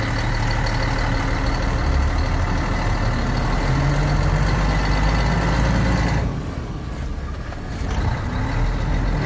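A semi-trailer truck engine idles with a steady, loud low rumble while maneuvering through a tight spot in Petrolina, easing slightly toward the end.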